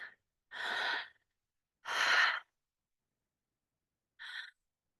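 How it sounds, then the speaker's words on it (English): Slow connected breathing demonstrated in a breathwork session, three soft breathy bursts close to the mic with a long gap before the last, shorter one, no talking. "so I'm breathing in, out, almost like a circle, like this"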